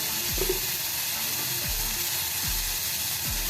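Wheat-flour breakfast ingredients sautéing in a pan with salt, a steady sizzle carrying a few scraping stirs of a spatula at regular intervals, close and alone with no talking.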